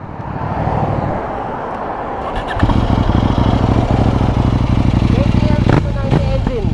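New 800cc motorcycle powered by a KTM 790 engine, revving loud and close with a steady throaty drone that steps up partway through, then short throttle blips; people talk over it.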